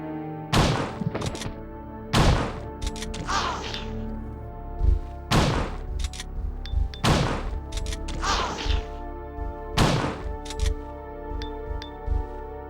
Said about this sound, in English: That took 4 shotgun shells, annoyingly.